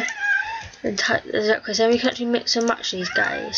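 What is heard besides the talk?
cat meowing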